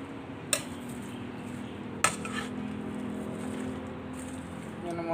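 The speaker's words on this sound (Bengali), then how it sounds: "তারপরে একটু নেড়ে সবগুলো একটু উলটপালট করে নেড়ে ভালো করে মিশিয়ে দেব।" A spatula clanks twice against a pan while bitter gourd fry is turned and mixed in oil, over a low continuous frying hiss.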